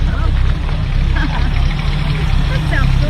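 A car engine idles with a steady low rumble at an outdoor community car show on Harstine Island, continuous through the clip beneath nearby people chatting.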